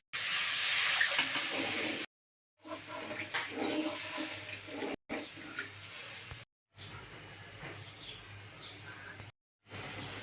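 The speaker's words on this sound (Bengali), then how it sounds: "মশলা কষানো হয়ে গেছে, এখন আমি দিয়ে দেবো অল্প জল।" A little water poured into a pan of fried-down spices for a marine dhela fish bhuna hisses and steams loudly at first, then the hiss comes in choppy bursts with brief silent breaks between them.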